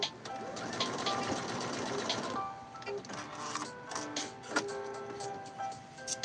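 A domestic sewing machine stitches a garment sleeve in a steady mechanical whir for about two seconds, then stops, followed by scattered clicks and handling noises as the fabric is repositioned, fairly close and with no talk.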